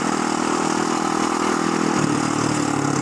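Motorcycle engine on a ride home from work through wide bends, with the throttle closing as a gear engages; a steady, loud, close engine drone runs throughout with no speech.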